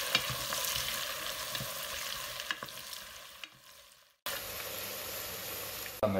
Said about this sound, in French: On va laisser dorer aussi les oignons.